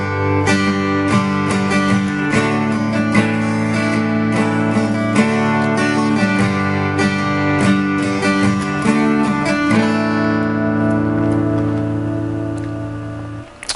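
Acoustic guitar plays a chord progression, ringing strummed chords in a steady, continuous rhythm, loud and close, with no voices over it.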